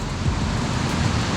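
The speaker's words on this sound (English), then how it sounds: "this roaring 50-foot spout of water flowing from the rose granite rock" Vivian Falls, a roaring 50-foot spout pouring from rose granite in New Mexico's Jemez Mountains, gives a continuous, dense, broadband rush heard close and loud, steady without pause.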